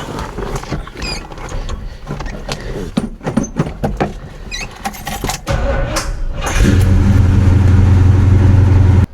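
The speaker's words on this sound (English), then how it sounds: "we're going to crank over the Chevelle with this high power AGM battery" A Chevrolet Chevelle engine cranks on a high-power AGM battery amid clicks and mechanical rattles, then catches into a loud, steady idle drone for the last few seconds, close up with no talk.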